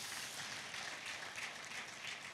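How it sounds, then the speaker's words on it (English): An audience at a Coalition for Better and Brighter Nigeria rally claps for the president, producing a faint, steady, far-off patter of applause with no voices over it. "So can you clap hand for our president?"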